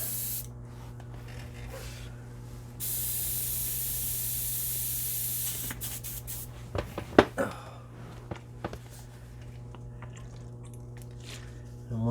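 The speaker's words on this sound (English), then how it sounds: "Get my airbrush out." An airbrush spraying paint, a steady close hiss for a few seconds that then cuts off, followed by faint handling clicks and a person talking.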